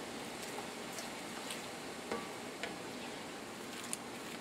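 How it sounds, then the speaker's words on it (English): Meatballs frying in a pan for hot pepper jam meatballs, giving a steady, quiet sizzling hiss with a few faint ticks and pops and no voices over it. "We're going to put the meatballs in that frying pan there?"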